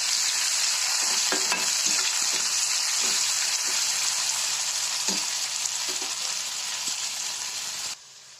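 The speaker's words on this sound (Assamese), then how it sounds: "পিঁয়াজ দিলোঁ আৰু পিঁয়াজৰ লগতে হালধি নিমখ দি মই অলপমান ভাজি ল'ম।" Onions fry in oil with turmeric and salt, a constant bright sizzle punctuated by scattered stirring clicks and scrapes, until the hiss suddenly drops off at the very end.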